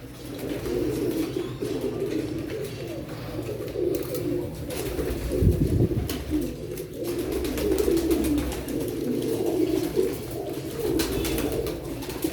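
Teddy pigeons perched in a loft of coops coo in deep, continuous rolling murmurs that overlap into a steady hum, close and fairly loud, with no voices.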